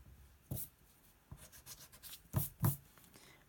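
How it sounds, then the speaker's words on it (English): A pencil eraser scrubs out lines on drawing paper while a Darth Vader mask is sketched, with a few short, close rubbing bursts and louder strokes near the end; no one speaks. "with your eraser, you can erase the two lines in here."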